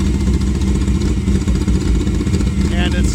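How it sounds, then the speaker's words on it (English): A motorcycle engine under EFI tuning runs at a raised warm-up idle, as if the choke were on, a loud steady throbbing drone close to the microphone. "So right now it's kind of running like the choke is on till it warms up a little bit"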